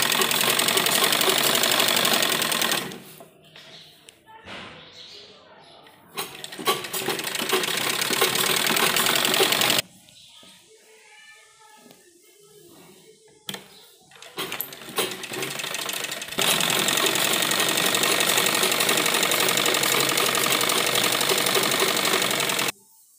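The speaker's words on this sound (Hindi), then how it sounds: "और इस साइड भी हमें सिलाई लगानी है यहाँ से यहाँ तक।" A sewing machine stitching a baby girl's A-line frock: loud, fast, steady mechanical whirring in long bursts, broken by quieter pauses with faint handling noises.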